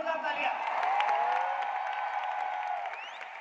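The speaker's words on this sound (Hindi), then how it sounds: "एक बार जोरदार तालियां" A crowd bursts into loud applause for a business speaker's brother at a Hindi motivational event, dense clapping with a few whoops, while a sustained tonal voice or music line runs over it.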